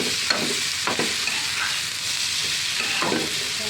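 Ginger-garlic paste being stirred into spices frying in a pan, a constant bright sizzle with scraping strokes of a spoon at intervals, close and without voices.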